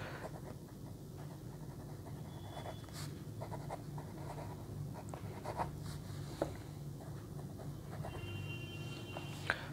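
An Airmail Wality 69P piston-filler fountain pen with a fine nib writing on paper makes faint, close scratchy strokes in short irregular bursts over a low background hum.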